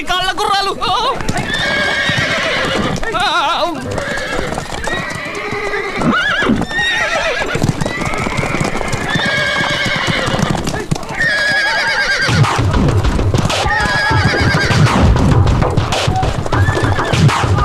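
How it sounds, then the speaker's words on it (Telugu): Lame chariot horses neigh and whinny repeatedly while hooves clip-clop, loud and close, with people talking at points throughout. "కుంటి కాళ్ళ గుర్రాలు."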